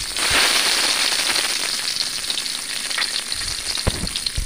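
Boiled eggs frying in hot oil in a wok, a dense, steady sizzle with crackling spatters and a few sharper pops toward the end, close and continuous with no talking.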